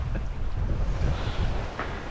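Wind buffeting a microphone aboard a boat at sea on a flatter stretch, where wind and tide run the same way, as a steady low rumble with a faint wash of water throughout.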